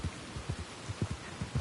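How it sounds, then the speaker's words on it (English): Heavy rain in the video game Red Dead Online pours as a dense, constant hiss with low rumbling thuds pulsing underneath, steady and fairly loud with no talk. "I mean, it's not just raining. It's pouring there."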